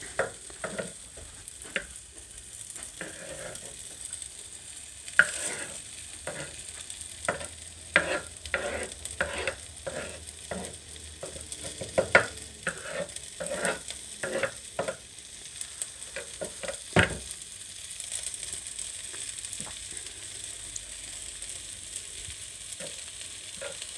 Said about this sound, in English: we're just stirring it. We have it on medium